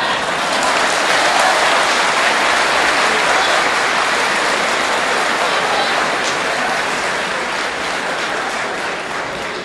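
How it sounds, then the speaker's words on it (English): A large audience claps loudly and steadily at a sermon, a dense, continuous wash of applause that holds its level for the whole stretch with no voice on top. "Because of your clapping, he's going to get angry"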